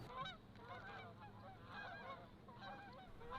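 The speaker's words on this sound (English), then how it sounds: "Hey, look, geese." A flock of geese honking outdoors, repeated nasal calls overlapping in bursts, moderately distant and fairly faint over open ambience.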